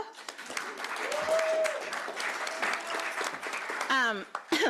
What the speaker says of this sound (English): Clap, y'all.